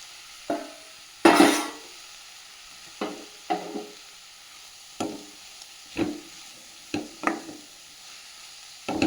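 Manathakkali greens with grated coconut are stir-fried for thoran in a pan, with about ten distinct spatula scrapes and stirs at uneven intervals over a faint sizzle.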